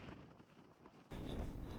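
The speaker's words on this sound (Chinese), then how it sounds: "大风呼呼的吹" Strong wind sweeps across a snowfield in the frozen Tianshan mountains of Xinjiang, a quiet hollow rush that surges suddenly into a louder roar buffeting the microphone.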